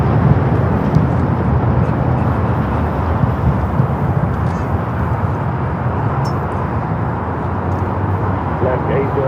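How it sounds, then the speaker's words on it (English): Airbus A330-200 airliner taking off at LAX, bound for Honolulu, a steady broadband jet roar that holds loud and even throughout with a faint hint of voices underneath. "Airlines 803 taking off to Honolulu on the"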